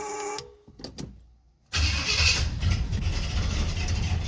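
A 1968 Pontiac GTO with a 6.5-litre engine, left sitting about a month, cold-starts after a short starter crank. It catches abruptly and settles into a loud, steady, rough idle close by, with no talk.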